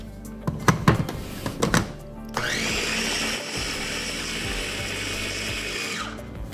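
A few sharp knocks and clatters, then a loud electric mixer whirs steadily for several seconds before cutting off.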